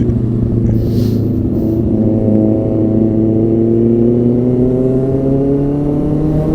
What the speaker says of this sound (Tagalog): Maingay din pala yung motor ko